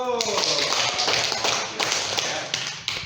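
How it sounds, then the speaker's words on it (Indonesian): Applause in a classroom, a burst of many hands clapping irregularly that thins out over a few seconds, with voices talking over it. "boleh tepuk tangan dulu"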